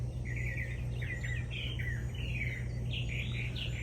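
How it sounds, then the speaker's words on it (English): Several birds chirp and trill outdoors by a front porch in Furman, South Carolina, bright repeated calls over a steady low hum of background noise. "You hear them birds?"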